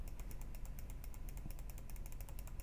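Rapid, steady computer mouse clicking while playing Cookie Clicker, a dense run of sharp close-up clicks repeating many times a second with no talk.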